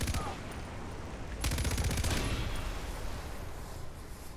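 Rapid bursts of automatic gunfire rattle continuously in the video game Far Cry 4, with a sharp louder explosion partway through and dense crackling fire continuing afterward.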